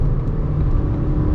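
Steady, loud engine drone from a 2014 Ford New Fiesta SE with a naturally aspirated 1.6 engine and manual gearbox, pulling hard in third gear, heard from inside the cabin as a continuous low rumble.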